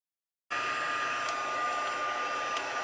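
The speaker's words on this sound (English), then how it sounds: "You can't heat emboss with the hairdryer, so we're going to use this heat tool." A heat embossing tool switches on abruptly and blows hot air steadily to melt embossing powder, a close, continuous whooshing drone like a hair dryer that carries on without a break.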